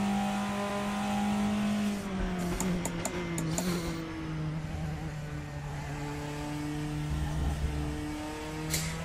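Race car engine in the Raceroom racing game, Drivers pack, revving steadily with shifting harmonic pitch as the car accelerates and eases off, loud and continuous with faint tire noise, no talking.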